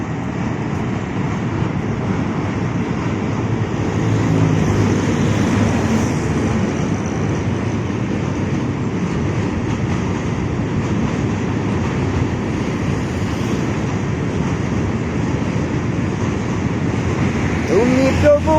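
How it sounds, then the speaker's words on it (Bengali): A train rolling across the railway bridge over the Meghna River at Bhairab: a loud, continuous rumble and clatter of wheels and carriages that drones on steadily for nearly twenty seconds, with faint voices beneath. "চলন্ত ট্রেন যাইতেছে, এই যে ট্রেন যাইতেছে এই ব্রিজের উপর দিয়ে"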